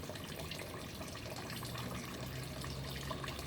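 Water pours steadily into a catfish pond, a continuous near splashing flow with faint dripping and no voices.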